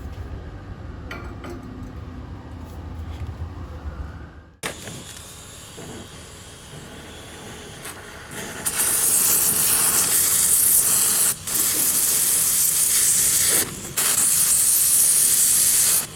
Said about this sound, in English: See if I can follow that with the torch